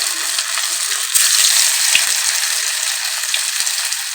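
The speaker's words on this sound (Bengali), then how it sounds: "কড়াই পুরো গরম এখন একটা একটা করে বড়া ছেড়ে দেব কড়াইয়ের মধ্যে" Rice-flour fritters go one at a time into very hot oil in a wok, giving a loud, continuous sizzle with scattered small pops and spits, with no voices.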